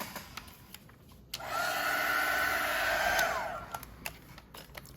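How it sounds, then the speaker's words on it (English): A heat gun dries watercolor paint, switching on with a sudden loud whirring blow that holds steady for about two seconds before winding down, with small clicks and taps before and after. "I'm gonna take my heat gun and dry it up"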